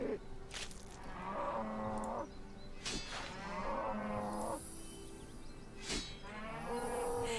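Cows in the RuneScape video game give several drawn-out moos that overlap one another at a steady pace, fairly close and clear, with no talk over them.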